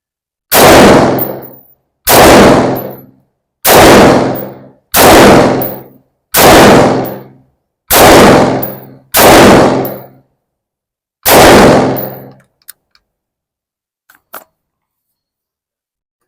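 Eight loud, close rifle shots from a Battlearms Workhorse ring out one at a time with even gaps, each with a long decaying clang, followed by a few faint clicks and handling noises.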